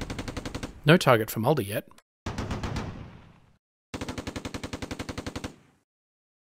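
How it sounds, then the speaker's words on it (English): Heavy machine gun fire in the Close Combat wargame, with rapid bursts of loud shots, including a long rhythmic burst near the end, broken by a spoken line over the gunfire. "targets the Sonderkraftfahrzeug with a heavy machine gun"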